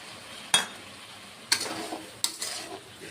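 Mustard paste fries in a pan with a low steady sizzle, punctuated by three sharp scraping strokes of a spatula stirring it.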